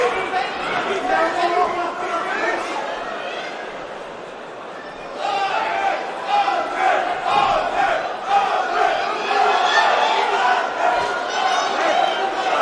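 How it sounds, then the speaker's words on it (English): Swedish fans chant loudly within a roaring crowd at a Cage Warriors MMA event in Manchester, rhythmic group shouting that dips briefly then surges back, with commentary voices over it. "the Swedish contingent making themselves heard here in Manchester"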